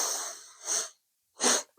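Close, airy breaths during a gentle yoga and qi gong flow, coming as three separate breathy pushes with silent pauses between them.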